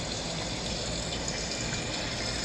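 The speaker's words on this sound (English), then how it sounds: "Sound effect of water." Steady rushing water, a sound effect in a museum exhibit, flows without pause, a dense even wash like a running tap or gushing stream, fairly close and unbroken.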